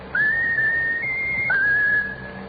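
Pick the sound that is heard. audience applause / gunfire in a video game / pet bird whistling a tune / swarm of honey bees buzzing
pet bird whistling a tune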